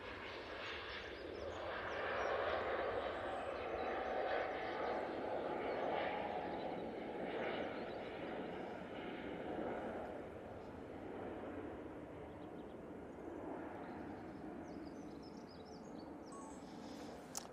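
A Lufthansa jet taking off from Manchester Airport, heading for Frankfurt, gives a steady broad engine roar that swells early and then holds at a distance, with faint bird chirps in the background.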